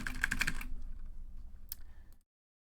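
Rapid clattering keystrokes on a computer keyboard, a quick dense burst of clicks at the start, then lighter scattered taps fading out before abrupt silence.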